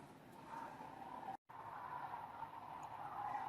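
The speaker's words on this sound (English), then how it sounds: "You'll hear the traffic in the background" Steady road traffic hums in the background, a continuous broadband wash with cars rushing past, briefly cut out once midway.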